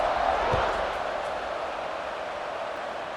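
Stadium crowd in EA Sports College Football 26 before a kickoff, a steady wash of broad crowd noise that fades slightly, with a single dull thump near the start.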